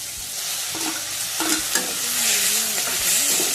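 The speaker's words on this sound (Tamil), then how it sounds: "அடுத்து நம்ம ரெடியாக நறுக்கி வச்சுருக்கிற வெங்காயத்தை போட்டு நல்லா வதக்கணும்" Chopped onions sauté in a pan of oil with garlic for a tamarind curry, giving a steady close sizzle broken by scraping stirs of a spoon.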